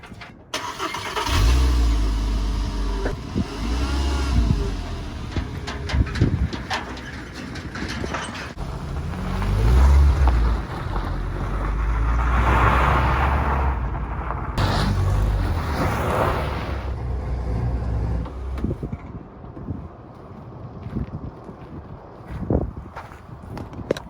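A VW Rabbit MK5 out on a test drive, its engine and road noise swelling and easing over about twenty seconds, with occasional clunks and bumps heard from inside the car and no speech.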